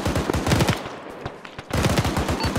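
Rapid automatic gunfire from an ARMA 3 firefight, loud dense bursts of repeated shots that pause briefly mid-clip and then resume with the same intensity.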